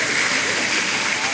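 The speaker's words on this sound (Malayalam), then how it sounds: "നല്ലൊരു വാട്ടർഫോൾസ്, വെള്ളച്ചാട്ടം, നല്ല വെള്ളച്ചാട്ടം." A waterfall in Malaysia roars with a steady, loud, broad rush of falling water that fills the whole short stretch without a break.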